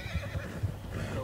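An Arabian horse in Red Dead Redemption 2 whinnies while its hooves clip-clop in a quick, steady galloping rhythm, all short and fairly quiet with no talking.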